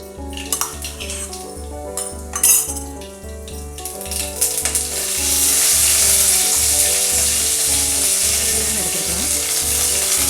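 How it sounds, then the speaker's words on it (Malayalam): Half a teaspoon of mustard seeds tipped into a teaspoon of hot oil: a few clinks give way to a steady loud hissing sizzle that carries on to the end, with background music playing throughout. "ഓയിൽ അപ്പോൾ ചൂടായി വന്നിരിക്കുകയാണ് അര ടീസ്പൂൺ കടുക് ചേർത്ത് കൊടുക്കാം"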